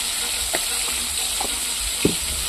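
Prawns fry in hot oil with turmeric and salt. A steady, close sizzle is broken by several distinct scrapes of the spatula as they are turned.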